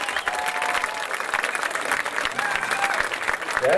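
Dense, sustained crowd applause in the stands at a Coalfield vs Sunbright football game as Tiger legends are honored; a steady wash of many clapping hands at full strength throughout, with faint crowd voices mixed in.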